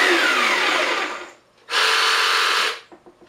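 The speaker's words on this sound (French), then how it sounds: "c'est une scie sauteuse avec une table" Blade Runner table-mounted jigsaw cutting wood, two bursts of buzzing motor whine, the first about a second and a half long and the second about one second, separated by a short pause, close and loud.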